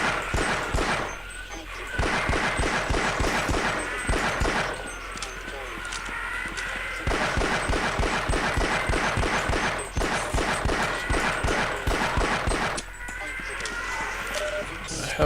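Video game gunfire on the Vault map crackles in repeated rapid bursts throughout, moderately loud, with a person talking over much of the shooting.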